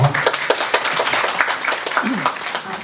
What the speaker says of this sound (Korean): 박수 맞아주십시오